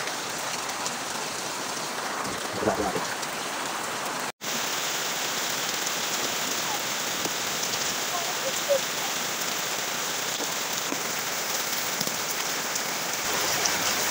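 Steady rain falls and patters on surfaces close by, a dense even wash of drops that lasts the whole time, with one sudden brief dropout partway through.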